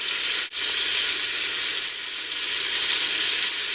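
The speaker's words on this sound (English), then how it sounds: "saute this until it's kind of almost done" Chicken sautéing in a pot for a gnocchi soup, a loud, continuous close-up hiss of frying with one brief break near the start, no talking.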